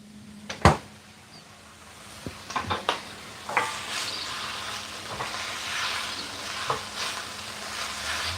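Food sautés in a pan with a soft ongoing sizzle, broken by a sharp knock early on and several utensil scrapes and clinks as it is stirred, close but moderately quiet.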